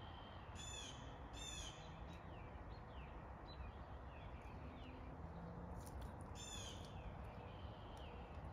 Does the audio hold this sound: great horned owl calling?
yes